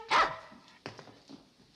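A dog gives one sharp, clear bark up close, then a couple of softer, shorter yips or whimpers trail off in a quiet indoor scene, with no talk over them.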